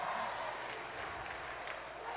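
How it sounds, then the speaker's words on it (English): Crowd in the stands at a high school boys ice hockey championship final in a rink, a steady diffuse murmur and scattered calls from both cheering sections, fairly distant and continuous. "Now you start to hear it a little bit from the crowd now."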